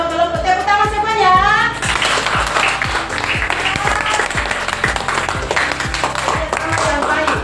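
A group claps steadily, a dense patter of many hands after a brief moment of voices, continuing evenly to the end.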